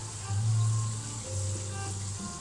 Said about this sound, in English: So I need it frying.